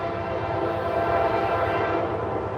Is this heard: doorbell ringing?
no